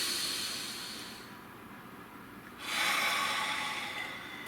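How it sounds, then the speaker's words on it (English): A deep breath in and out during a guided tarot meditation, alone: a long airy inhale, a brief pause, then a fuller exhale, close and soft. "Breathe."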